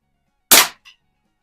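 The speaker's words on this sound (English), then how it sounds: "let's hit the Rojo target, see how many times we can get it to spin around" Crosman 140 pump air rifle from 1955-56 fires once at a spinner target, a single sharp crack followed a moment later by a small metallic ping of the target.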